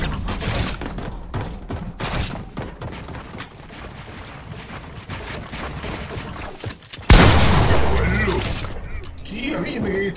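Gunfire in the video game Fortnite: dense bursts of shots and sharp impacts crackle through the first seven seconds, then a loud blast-like surge. Players talk over the action.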